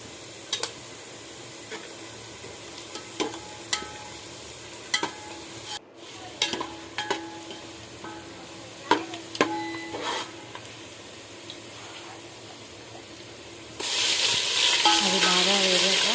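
Onions, cloves and pulao spices fry in a pan, with intermittent close scraping and stirring clicks over a soft sizzle, then a sudden louder burst of sizzling near the end.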